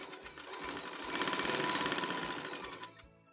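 A sewing machine stitches elastic onto capri fabric, its needle running in a fast, steady rhythmic chatter that holds close and loud for about three seconds before stopping.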